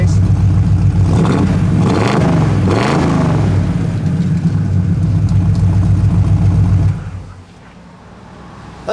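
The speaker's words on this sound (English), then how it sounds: "We're going to fire that up a little bit, or rev it up, and then we'll shut it up." A 1973 Ford Gran Torino Sport's engine idles loudly nearby, then revs twice in rising and falling bursts, settles back to idle, and shuts off, leaving a quiet tail.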